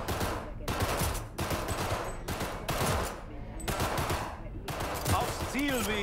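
Gunshots at a shooting range in the game Cyberpunk 2077, with several loud bursts of rapid automatic fire separated by short pauses and a few voices speaking between them.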